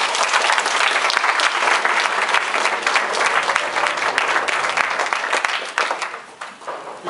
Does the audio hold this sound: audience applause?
yes